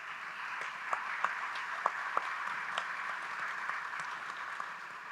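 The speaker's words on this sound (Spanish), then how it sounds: "Por favor, un aplauso al señor Phil Manzanera." An audience at a festival conversation event applauds guest Phil Manzanera, a sustained wash of crowd clapping with a few sharper individual claps standing out, moderately distant.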